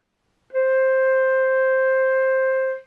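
A single sustained flute note on C, played softly with slow cool air through a small, focused aperture, starting cleanly and holding steady and pure for over two seconds before fading, alone with no other sounds.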